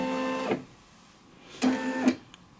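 An embroidery machine working on a fabric face mask gives two short, close mechanical whirs of motor movement with tonal hum, separated by a quiet pause.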